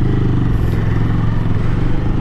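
A 2025 Moto Morini Calibro 700 Bagger motorcycle pulls away under steady acceleration, its engine loud and close with a continuous low rumble throughout.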